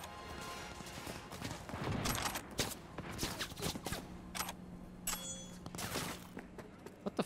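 Gunfire in the video game Cyberpunk 2077: scattered bursts of shots and impacts over a busy game soundscape, fairly faint and irregular, with quick clustered cracks throughout.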